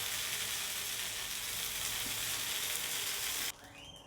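Pieces of paneer tikka sizzle steadily in a hot pan while being turned to brown on all sides, a loud continuous hiss that drops suddenly in level near the end, with no talk.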